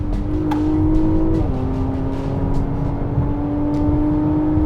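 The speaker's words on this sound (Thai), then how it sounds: "นี่ก็จะเป็นโหมดที่เขาจะกวาดรอบเครื่องยนต์นะครับ ไปชนเลสไลน์เลยนะครับ" A Porsche Cayenne Coupé Platinum Edition engine held at a high, steady rev toward redline, its tone stepping down briefly before settling into a sustained loud drone.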